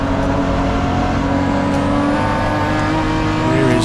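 BMW M Performance Racing Series race cars from classes D and E running on track, a loud, continuous engine roar with high rising whines as cars pass close by.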